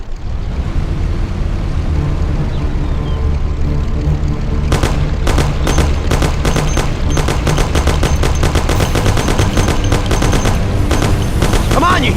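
Thompson submachine gun bursts in the 1930s gangster game Mafia, rapid loud rattling volleys starting partway through over a constant engine rumble, with repeated sharp cracks.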